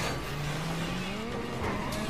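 A car in GTA 5 drives off, its engine revving up in rising pitch with a brief tire squeal, loud and close throughout.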